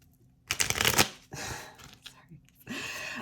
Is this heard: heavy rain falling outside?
no